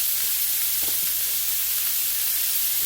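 Seasoned vegetables and shrimp frying together in a hot pan, a loud, dense, continuous sizzling hiss close up, with a few faint clinks and no talking.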